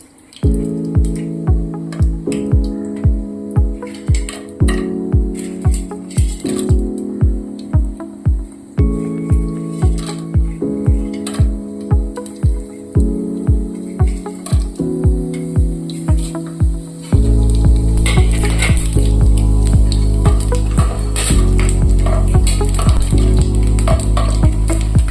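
Whole spices hit hot ghee for seeraga samba country chicken biryani, a loud, steady sizzle that takes over in the final third after a stretch of rhythmic background music.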